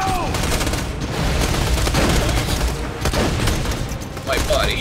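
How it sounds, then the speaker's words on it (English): Rapid gunfire from the video game Borderlands rattles almost continuously through the clip, dense bursts layered over game effects with players talking throughout. "Keep shooting him"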